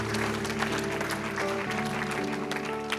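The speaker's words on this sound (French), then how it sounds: "Acclame pour Jésus." An audience at an evangelical church gathering claps in a sustained round of applause, dense and steady throughout, over a held musical drone.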